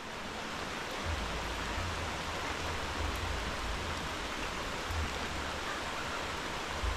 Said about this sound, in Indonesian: Hujan, Bapak.